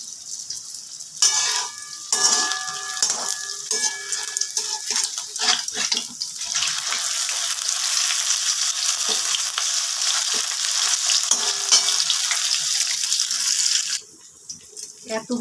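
Capsicum and coriander leaf pakoras crackle and sizzle steadily in hot oil in a pan, close and loud, with brief clinks of utensils at the start and a sudden drop near the end.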